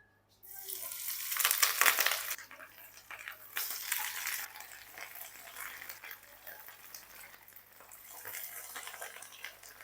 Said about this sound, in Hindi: अब इस ऑयल में मैं फ़िश को फ्राई करूँगा।